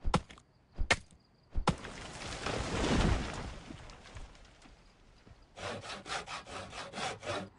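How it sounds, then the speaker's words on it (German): Wood being sawn in the video game Project Zomboid: a couple of sharp knocks, then a long rasping saw stroke, followed by a rapid run of rhythmic rasping strokes toward the end, fairly close and with no voices. "So, schön zersägen hier."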